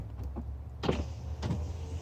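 Power windows on a 2018-or-later Nissan Murano motoring up while the key is held in the lock, a steady whirring run with a couple of sharper mechanical clunks, close by and with no talking.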